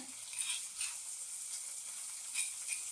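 Green chilies frying in a pan for fenugreek leaf curry give a faint, steady sizzle with soft crackling bursts that rise and fall, and no voices are heard.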